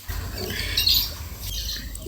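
Harsh, loud bird squawks ring out a few times over a low background rumble.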